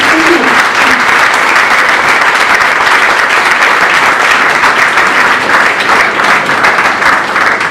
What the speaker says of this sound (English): Can we please have one more massive round of applause for Santa Lamas and Trigwell?